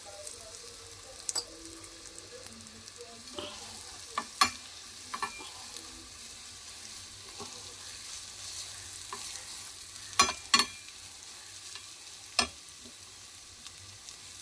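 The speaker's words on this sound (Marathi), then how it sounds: "त्याच्यामध्ये तेल घालून ही चटणी परतून घेऊया" Peanut chutney sautéing in hot oil in a pan, a soft steady sizzle with occasional sharp scrapes and clinks of a spoon against the pan, no talking.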